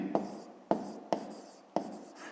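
Pen strokes on paper while working a grade-5 math exercise, four short scratchy writing bursts at uneven intervals, close and fairly quiet.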